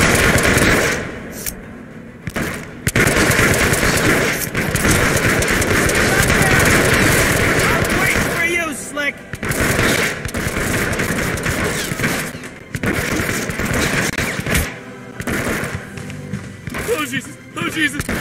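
Gunfire in Hitman Absolution, loud bursts and rapid volleys of shots with thuds between them, mixed with excited talking throughout.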